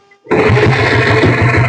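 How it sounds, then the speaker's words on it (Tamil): A 1996 company-built diesel motorcycle kick-started in one kick, bursting abruptly into a loud, close, rough, chugging engine roar that runs steadily to the end. "இப்ப கிக்கர்லயும் ஸ்டார்ட் பண்ணி காட்டுற பாருங்க"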